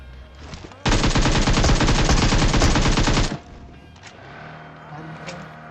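Automatic weapon spray in PUBG Mobile, fired from a prone position with an AKM: a loud, dense burst of rapid shots lasting about two and a half seconds, then quiet game ambience.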